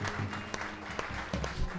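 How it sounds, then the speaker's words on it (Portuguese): Church congregation clapping during a worship service, a faint, scattered round of applause with a few sharper claps standing out, a distant voice faintly behind it. "Você pode aplaudir Jesus?"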